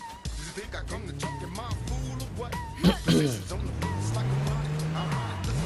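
A vehicle in the H1Z1 video game drives nearby, its engine rising and falling in pitch, with a couple of sharp louder bumps midway, while several voices talk over it.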